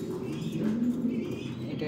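A male pigeon kept for breeding in a loft coos in a low, rolling burst close by, with a soft murmur of other birds and background activity around it.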